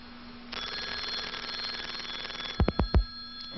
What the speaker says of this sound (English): And your computer is ringing.